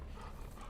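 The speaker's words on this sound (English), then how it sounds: "with enemy dogs, you have to worry about them picking up your scent trail." An enemy dog in The Last of Us Part II sniffs for the player's scent trail, giving a brief, close burst of breathy snuffling.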